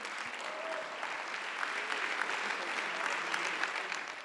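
Sustained applause and standing ovation in the French parliament, a steady dense wash of clapping that fills the whole stretch at moderate level with no voices rising above it.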